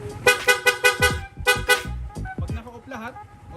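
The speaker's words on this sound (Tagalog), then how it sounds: "Kahit po sa busina mga sir, meron po yan" A car horn sounds in a series of short honks with brief gaps, loud and close, mixed with people talking.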